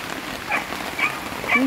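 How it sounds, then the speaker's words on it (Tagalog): Soft, steady rain patter with a diffuse hiss, fairly close, over a brief stretch. "Para pakinggan ng ulan habang natutulog ka sa gabi."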